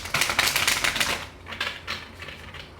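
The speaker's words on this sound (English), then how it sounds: "Shuffle everything up and cut everything up." A deck of tarot cards being shuffled and cut, giving dense riffling bursts in the first second followed by a few softer, separate card flicks, close and alone.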